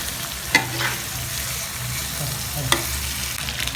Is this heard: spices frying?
yes